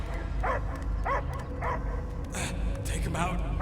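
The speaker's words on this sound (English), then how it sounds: "I hear only barking." A dog barks and yips in short repeated bursts amid game dialogue and a steady background score, a creature's bark heard in the Guardians of the Galaxy video game.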